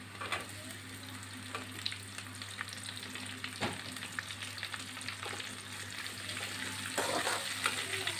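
Chopped shallots sizzling with curry leaves and dried red chillies in a hot pan, a steady close frying crackle with occasional stirring scrapes.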